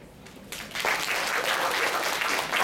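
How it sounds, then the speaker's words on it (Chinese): Audience applause for new members of a college guitar club at a campus concert, starting faintly and swelling into sustained, dense clapping that continues steadily for a couple of seconds. "那大家再给他们一个掌声好吗？"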